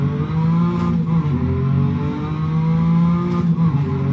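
Renault Clio V6 WRC rally car at full throttle on the Nordschleife, its engine droning loud and close with steady harmonic roar and brief rising revs between gear changes.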